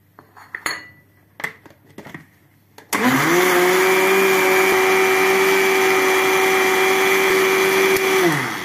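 After a few light clinks of dishes and utensils, a blender starts up and runs steadily, beating sugar, eggs and vanilla for tiger cake batter, a loud, close whirring motor drone with a steady pitch until the end.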